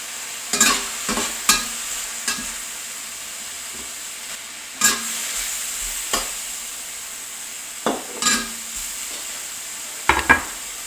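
King mushroom matchsticks sizzling steadily in a hot pan, with a continuous frying hiss broken by several scraping stirs of a utensil, close up and with no talk.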